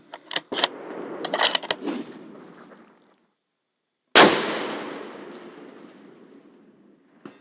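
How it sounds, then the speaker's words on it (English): A few light mechanical clicks and rustles, then a pause, then a single sharp rifle shot fired at a target 770 yards away, loud and close with a long echoing decay. "we're going to take a second shot just to confirm"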